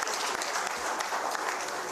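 Audience clapping for a university award winner at a water week event, a brief, steady burst of applause filling the room.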